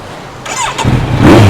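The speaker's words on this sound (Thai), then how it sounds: "ขออนุญาตเปิดกุญแจสตาร์ทรถ" A 2018 Kawasaki Z900 SE motorcycle engine cranks and catches, rising into a loud idle that grows steadily louder toward the end.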